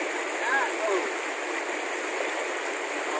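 River water on the Tawing River in Zamboanga Sibugay flows steadily with a constant rushing and gurgle while laundry is washed in it, with faint splashes.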